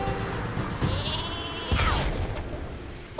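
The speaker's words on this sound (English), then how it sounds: "Super sheep." In the Worms video game, the Super Sheep weapon lets out cartoonish bleats, followed by a sharp swooshing launch sound and some blasts, all heard clearly without talk.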